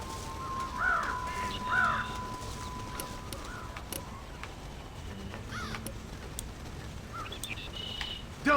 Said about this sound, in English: Dumb birds.